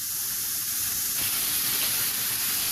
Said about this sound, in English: once you've taken out the veg, add your lean beef mince